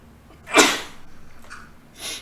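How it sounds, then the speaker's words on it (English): A single sharp sneeze bursts out close by, followed by a soft breathy exhale and a brief snuffling sniff. "Finished with a sneeze."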